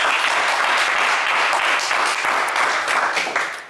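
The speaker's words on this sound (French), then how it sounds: "On l'applaudit bien fort." A television game-show studio audience breaks into loud, dense applause that holds steady for several seconds before tapering slightly at the end.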